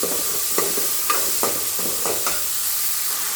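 Turkey berries (sundakkai) are being sautéed in a pan for sambar, giving a steady broadband sizzle with several soft spoon-stirring scrapes spaced about half a second apart, close and alone without any voice.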